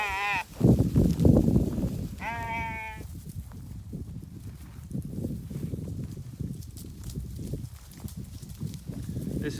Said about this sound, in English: Here, sheep, sheep, sheep.